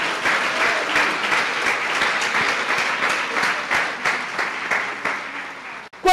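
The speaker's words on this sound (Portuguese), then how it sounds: "Dê uma salva de palmas ao Senhor" Sustained applause from a church congregation, a dense wash of clapping with no voices over it that carries on for several seconds before stopping abruptly at the end.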